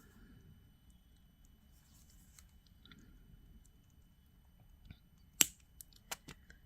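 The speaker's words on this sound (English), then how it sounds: "Cut this loop off." Cutters snip a wire loop off a crystal earring: one sharp, close click after a quiet stretch, then two smaller clicks.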